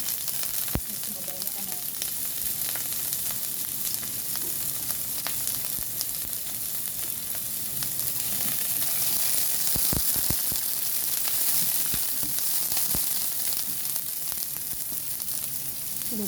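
Garlic sautéed in a pan with onion for a vegetable dish, giving a steady close-up sizzle with occasional sharp clicks and scrapes of stirring and no talking.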